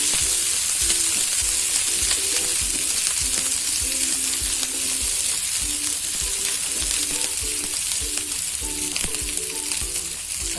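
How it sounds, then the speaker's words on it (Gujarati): Garlic sautés in a pan for sweet corn sabzi, giving a steady, close sizzle with faint rhythmic stirring scrapes throughout. "લસણ નાખીએ. થોડી સાતળી લેશું"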